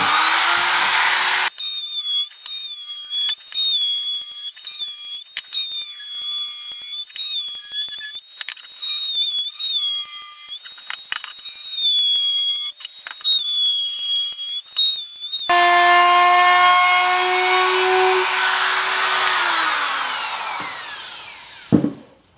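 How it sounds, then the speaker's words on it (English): Router shaping a chamfer along the edges of a wooden coffee table made from a log: a loud, steady high-pitched motor whine with cutting chatter for about fourteen seconds, then spinning down in a long descending whir to silence. "I'm going to take the router, and I'm going to put a little chamfer all the way around on all the edges"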